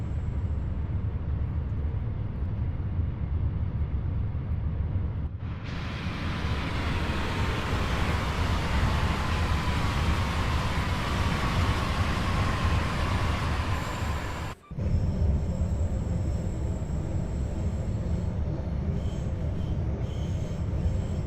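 A train in Train Sim World 2 on the Lucerne to Sursee line, creeping along very slowly: a steady low rumble and rolling noise that continues throughout, with a faint whining tone drifting in the middle and a sharp break near the end.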